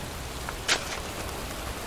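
Rain falls in the video game Heavy Rain as a steady, even hiss that fills the scene, with one brief sharper splash breaking through near the middle.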